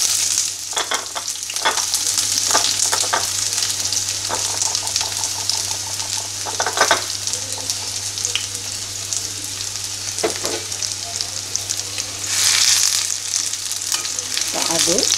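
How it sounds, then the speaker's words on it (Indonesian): Shallots and garlic sizzle in hot oil in a pan, a steady loud frying hiss broken by repeated scraping stirs, with a low hum underneath. "Setelah minyaknya panas, kita goreng bawang merahnya"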